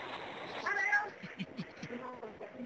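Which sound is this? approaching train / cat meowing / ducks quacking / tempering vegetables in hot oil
cat meowing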